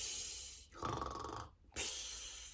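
A storyteller's voice imitates a bear snoring deeply, making a long rasping inhaled snore and then a second breathy snort, close and fairly loud.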